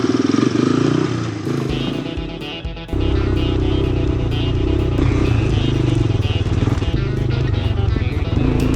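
ATC three-wheeler revving along a trail, its engine buzzing loud and close with rattling clatter and shifts in pitch, briefly dipping before picking back up.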